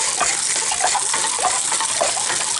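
Water rushes steadily from a sediment flush, likely a water heater drain, carrying rusty sediment out; a loud, continuous gushing wash with no pauses and no talk.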